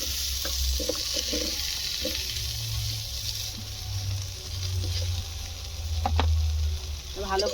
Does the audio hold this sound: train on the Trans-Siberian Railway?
no